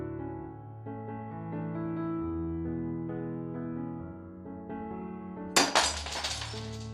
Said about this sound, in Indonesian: melempar botol minuman yang dipegang ayah ke lantai sampai pecah berkeping-keping